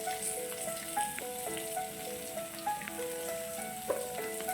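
Fish sizzles and spits in hot oil in a pan with curry leaves, a steady close crackle with scattered pops and no talking.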